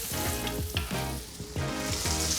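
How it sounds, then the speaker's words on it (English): Carrots fry in oil in a pan, a dense close sizzle broken by a few rhythmic scraping stirs, steady and moderately loud with no talking. "carrots just need a couple of minutes in the pan"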